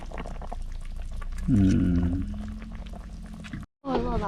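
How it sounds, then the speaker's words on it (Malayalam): A pot of fish curry bubbles and simmers steadily outdoors at Kakkadampoyil, with voices talking over it and a short pause in the sound near the end. "മീൻകറി അങ്ങനെ തിളച്ച് വരുവാണ്"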